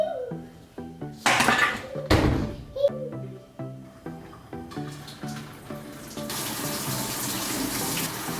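Water runs from a tap into a bathtub during cleaning, gushing in uneven bursts with hollow thunks of items knocked against the tub, then settling into a steady close splashing stream.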